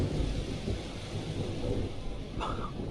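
A thunderstorm rumbles with a low, rolling roll of thunder under a steady hiss of rain, fairly loud and continuous, with no voices.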